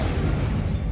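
Casting the Incendio fire spell in Hogwarts Legacy produces a short, loud, dense whoosh-and-burst of flame that fills the moment without any voice over it.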